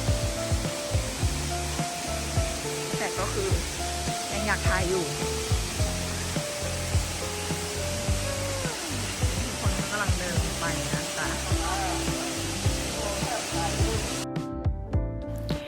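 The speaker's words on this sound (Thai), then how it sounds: "น้ำตกตรงนี้ก็เป็นอีกหนึ่งไฮไลท์เลยนะคะ ที่เขาชอบมาถ่ายรูปกัน" Waterfall on a forest hiking trail gives a constant loud rushing roar, with a voice speaking and other voices heard over it.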